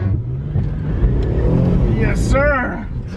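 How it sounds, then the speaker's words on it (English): A car engine revs hard in a loud, close burst ahead of a burnout, with people talking over the roar. "I'm gonna do a burnout"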